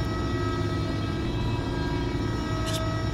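A freight train in Farming Simulator 22 rolls slowly into a loading platform on the Mars 2 map, giving a steady low mechanical rumble with a faint tonal hum that holds evenly throughout.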